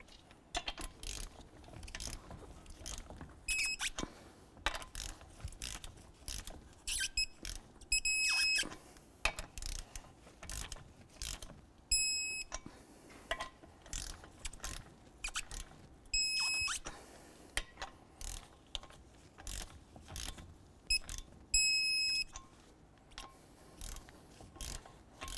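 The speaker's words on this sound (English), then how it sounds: "We'll torque both front wheels to 140 foot-pounds." Front wheel lug nuts on a 2014-2018 GMC Sierra 1500 are tightened with a torque wrench, giving scattered ratcheting clicks and several short, sharp click-outs in bursts across the clip, with no talk.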